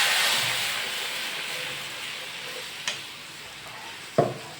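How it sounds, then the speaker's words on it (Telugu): Garlic and curry leaves fry in a pan for tomato rasam, giving a steady, fading sizzle and hiss broken by two brief clinks of a utensil. "తెల్లగడ్డ, కరివేపాకు వేసేసి కొద్దిసేపు వేగనిద్దాము."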